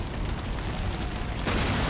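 A warship explodes during a naval battle in Empire: Total War, a dense, continuous booming roar that swells louder toward the end of the short burst.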